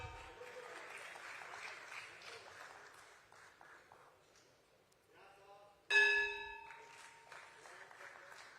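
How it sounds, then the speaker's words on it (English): A crowd applauds at a stock exchange listing ceremony, the clapping fading before a bright ringing tone bursts in and more applause follows. "You can keep the claps going."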